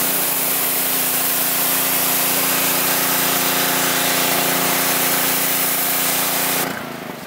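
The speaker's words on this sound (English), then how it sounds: "You want to keep your power washer the same exact distance away." A power washer blasts a steady, loud hiss of water against a tire for about seven seconds, cutting off abruptly near the end.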